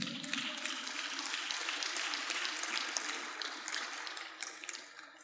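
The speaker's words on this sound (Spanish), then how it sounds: "Le damos un aplauso al Señor." Church congregation applauding during a Spanish-language sermon, a steady broad wash of clapping that holds for several seconds and then tapers slightly at the end.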